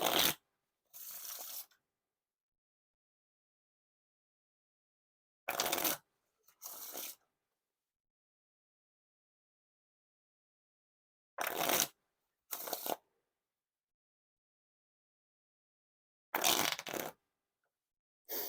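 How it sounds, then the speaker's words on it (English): Four bursts of riffle shuffling a Bicycle Street Art playing card deck, each a quick crisp flutter followed by a shorter bridge cascade, separated by silent pauses; close and clear. "the Riffle Shuffles and Bridge Shuffles nice and smooth"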